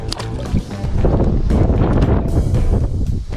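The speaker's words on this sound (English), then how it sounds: "that wind is ridiculous" Strong wind buffets the microphone outdoors beside a river on a fishing trip, a loud, continuous roaring rumble that swells slightly and carries no speech.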